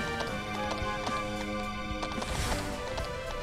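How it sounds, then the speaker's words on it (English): A horse in the Dragon Quest 11 video game, its hooves clip-clopping in a quick, even rhythm at moderate volume, with no talking. "Is this my horse? It is."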